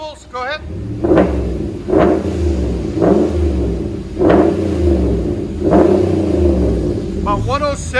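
Close, loud revving from a 2016 RAM 1500 5.7 HEMI V8 fitted with Magnaflow dual exhaust: five quick throttle blips over a deep idling rumble, with brief talking at the start and end.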